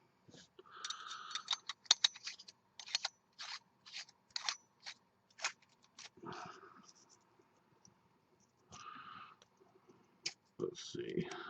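A metal beauty ring is screwed onto a Dreadnaut 26650 vape mod by Tactical Workz, giving a run of small, quiet metallic clicks and faint scraping in bursts, with soft speech nearby.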